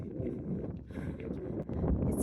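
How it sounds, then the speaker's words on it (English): Wind buffets the microphone atop the Bijli Mahadev peak above Kullu, a loud, continuous rumbling roar that gusts unevenly throughout with no voices. "It's windy and beautiful."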